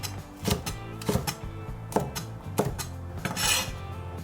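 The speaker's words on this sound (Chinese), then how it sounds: "大蒜先拍碎， 再切成颗粒" A knife chops smashed garlic cloves into small bits on a cutting board, giving sharp, close, uneven knocks at a brisk irregular pace with brief scraping between strikes.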